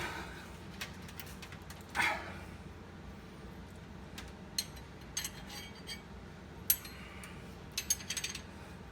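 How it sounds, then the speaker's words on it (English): A large box wrench ratchets and clicks in sparse, faint bursts while a thermostat cover bolt is tightened on a 1973 Mustang, the bursts separated by quiet stretches. "take a large box wrench and use this to tighten this down"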